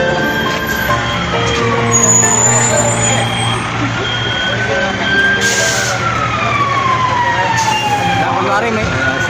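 A fire truck siren wails during a fire and rescue drill at a building, a long rising and falling tone sustained loud and steady throughout, with people talking underneath.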